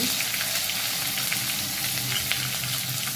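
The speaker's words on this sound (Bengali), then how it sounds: "দিয়ে পেঁয়াজগুলোকে খুব সুন্দরভাবে লাল লাল করে ভেজে নেব" Chopped onions sizzling steadily in a pan with tomato and salt, a constant bright frying hiss with faint stirring, no voices.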